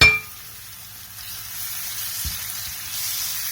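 Tomato masala for a mixed vegetable dish frying in a pan, a faint steady sizzle that grows slightly louder, opening with a brief clink and with no talking.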